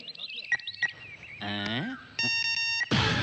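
A series of electronic phone dialing beeps and tones, clear and close, in short runs of steady pitched notes ending in a burst of noise.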